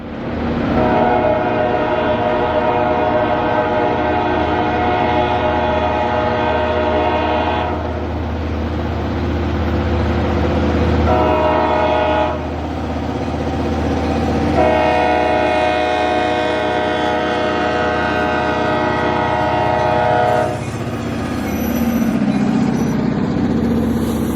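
A P&L local freight train passes at night, its horn sounding loud and close in long sustained blasts with brief gaps, over a steady rumble of locomotive engine and rolling cars.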